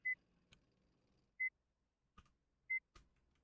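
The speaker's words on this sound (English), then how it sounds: "Oh, this thing's beeping." An electronic device beeps three times, short bright tones spaced about 1.3 seconds apart, with a few sharp clicks and knocks between them in an otherwise quiet room.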